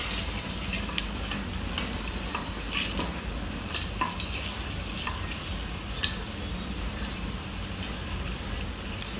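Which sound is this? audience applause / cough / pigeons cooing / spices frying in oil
spices frying in oil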